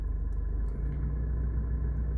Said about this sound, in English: So about quarter way the rev starts to come up.